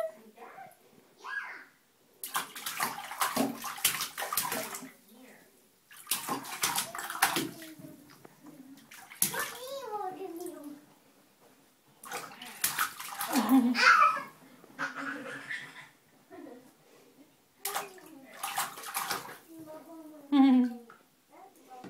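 A young child splashes and sloshes water in a bathtub at bath time, short splashy bursts between pauses, while the child babbles and an adult talks softly nearby.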